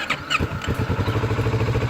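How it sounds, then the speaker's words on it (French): A Kawasaki Z650 motorcycle engine cranks briefly on the starter and catches, settling at once into a loud, close, steady idle putter. "Le moteur est allumé"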